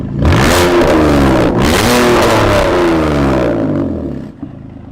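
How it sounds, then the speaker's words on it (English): A concept car's engine revs hard with a rising whip-like whine dropping into a deep, throaty growl, very loud and close, repeating in swelling surges before settling. "It's got like a whip and then a deep growl."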